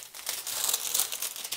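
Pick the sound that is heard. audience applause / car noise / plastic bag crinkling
plastic bag crinkling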